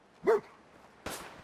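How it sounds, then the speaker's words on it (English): A dog in the video game Fallout 4, out in open wasteland, gives two short separate barks, the first loud and full, the second a brighter, higher yelp about a second later. "There's a dog over there I want to take care of first."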